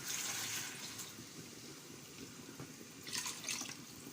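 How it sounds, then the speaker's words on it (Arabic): A little water is poured into a cooking pot while making kofta and rice, giving a faint splashing trickle with a second brief pour near the end, quiet and without talk. "احط شويه ميه صغيرين تاني"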